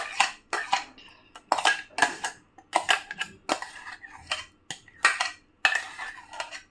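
A spoon scrapes and clinks against a bowl while semolina and curd are mixed for a no-egg, no-oven mango suji cake, giving repeated close, rhythmic bursts of scraping with short pauses between strokes.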